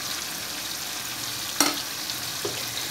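Cluster beans frying with salt, turmeric and red chilli in a pan while being stirred, a soft steady sizzle with a sharp utensil scrape near the middle and a lighter one later.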